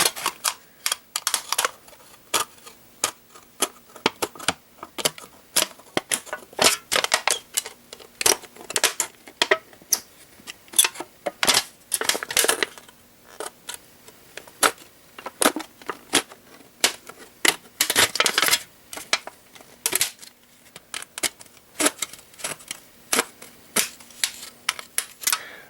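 Thin, paper-like corrugated roofing sheet for a model railroad is cut up close, making rapid bursts of crisp snipping and crinkling clicks with short pauses between them and no talking.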